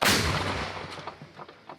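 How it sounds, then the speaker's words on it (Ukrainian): A single heavy artillery gun blast booms up close in a frontline area of Kharkiv region, Ukraine, then rumbles and echoes away over the next second or so. "Постріл!"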